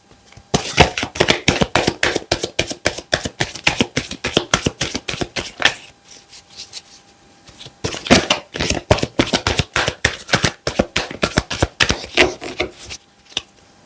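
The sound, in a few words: tarot cards being shuffled and drawn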